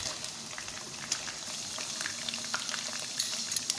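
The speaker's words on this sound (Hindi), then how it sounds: "चिकन को हम अच्छे से फ्राई करेंगे।" Chicken pieces frying in oil in a karahi for a Mughlai chicken karahi, a steady close hiss with dense crackling and popping, no talk over it.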